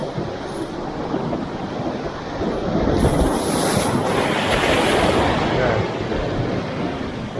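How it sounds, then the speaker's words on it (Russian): Strong Black Sea waves crash and wash continuously against a fishing boat, loud and close, with heavy wind buffeting the microphone throughout. "Волна сильная, бьет хорошо."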